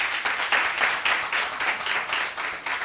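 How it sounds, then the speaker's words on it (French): A studio audience at a televised lottery draw applauds, with a moderately loud, pulsing round of clapping that carries on steadily throughout. "Merci d'applaudir."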